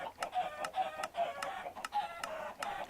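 Minecraft dispenser firing eggs that hatch into chickens in a video game: repeated sharp pop-like shots, roughly every half second, each with a short clucking chirp, loud and close, no talking.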